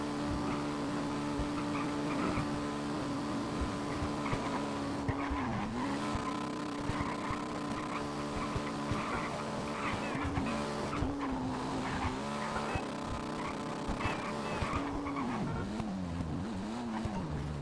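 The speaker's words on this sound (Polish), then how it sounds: "a tymczasem jedziemy jeszcze takim motorkiem" Motorcycle ridden through city streets in the video game GTA Online, a steady engine drone with shifting pitch and occasional tire noise, continuous and fairly loud with no talk.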